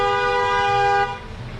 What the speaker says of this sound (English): Somebody's just honking at Mama D.